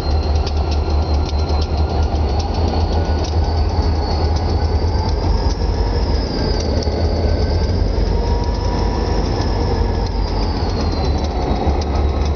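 A short passenger train of about four cars rolls past on the Berkshire Hills line, a loud steady rumble of wheels and rails, with a faint high squeal over it and no voices.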